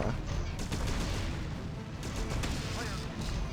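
Gunfire in the shooter video game Chrome, a quiet burst of shots and booms under low background rumble.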